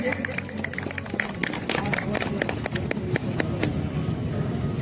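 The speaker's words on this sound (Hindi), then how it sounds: "तो एक बार जोरदार ताली से स्वागत कीजिए" Crowd applause at a public meeting, where guests are being welcomed: a dense, steady patter of many hands clapping for the whole stretch, fairly loud and continuous, with scattered sharper claps standing out.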